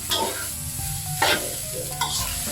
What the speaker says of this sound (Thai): เดี๋ยวแดงผัดต่อนะคะ